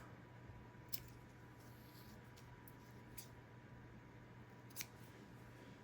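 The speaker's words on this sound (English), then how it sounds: "So I'm just gonna cut that out now" Faint scissor snips cut through paper in quiet room tone, a few sharp clicks spaced irregularly, with a low steady hum underneath.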